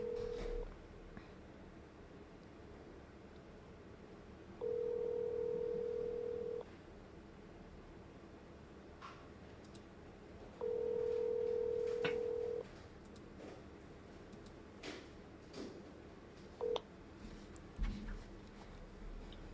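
Touch-tone telephone dialing beeps: three separate sustained tones, each a second or two long, spaced out over a quiet room background with faint scattered clicks and no talk.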